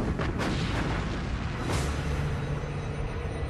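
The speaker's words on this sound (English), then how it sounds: "Bismarck opens fire." Battleship Bismarck's heavy naval guns opening fire at sea in 1941: a couple of deep booming blasts with rolling low rumble, set in a dense, continuous noisy background.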